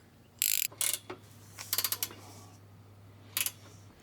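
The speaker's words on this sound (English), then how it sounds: "To tighten the bolt to the bumper, I use this gear wrench, 17mm." Ratchet clicks from a 17mm gear wrench tightening a bumper bolt on a Land Cruiser 76, heard as several short bursts of close, crisp ratcheting over a steady low hum.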